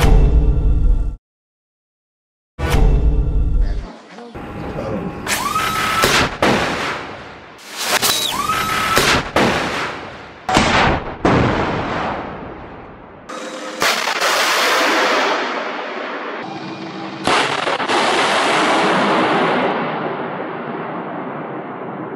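Gunfire in a Hamas attack against Israeli forces: sharp bursts of shots and louder bangs, some rapid and machine-gun-like, separated by brief gaps and followed by rumbling blasts and a dense, harsh roar.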